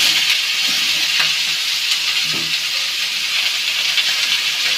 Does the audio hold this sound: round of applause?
no